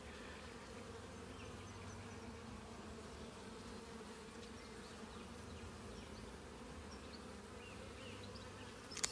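Honey bees hum steadily inside an open apiary hive during a June inspection in Ballachulish, a dense continuous buzz close to the frame with individual bees vibrating, no voices over it.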